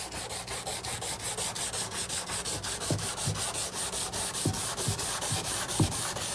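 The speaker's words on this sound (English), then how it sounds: "Start sanding here." Rhythmic rasping strokes of sandpaper rubbed back and forth over wood, steady and close, with occasional light knocks.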